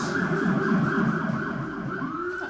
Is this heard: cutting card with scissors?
no